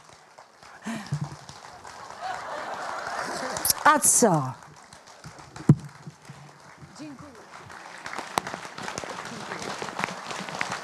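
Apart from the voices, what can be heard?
applause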